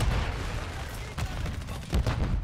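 Loitering Munition killstreak strikes landing in Modern Warfare 3, a run of heavy booming blasts and rumbling impacts in quick succession, loud and close, with a burst around the middle and another near the end.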